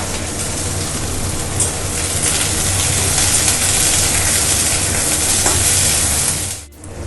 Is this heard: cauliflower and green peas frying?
yes